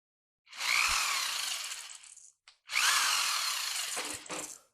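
Two close bursts of a power drill whirring through conduit tubing to widen pre-drilled holes, each lasting over a second, separated by a short pause and a quick blip.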